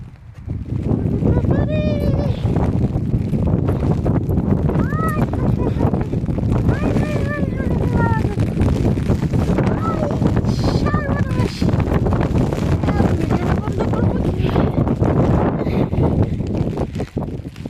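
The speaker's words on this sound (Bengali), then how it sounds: "বাতাসে আমাকে উড়িয়ে নিয়ে যাচ্ছে যাচ্ছে বাতাস।" Strong coastal wind at Ponte da Piedade, Portugal buffets the microphone in a constant roar while a person talks and exclaims over it.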